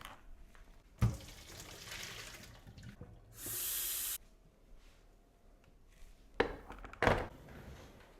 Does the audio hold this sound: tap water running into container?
yes